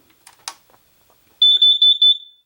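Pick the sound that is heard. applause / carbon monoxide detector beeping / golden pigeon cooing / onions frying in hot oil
carbon monoxide detector beeping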